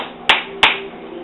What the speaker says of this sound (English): You're not supposed to hit metal on metal, somebody told me.